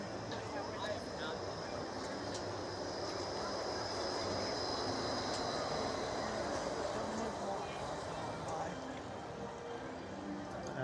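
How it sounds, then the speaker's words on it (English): A Disneyland monorail train passes, a steady broad rumble and rush that stays even for several seconds amid busy park ambience. "There's that monorail, 70th monorail."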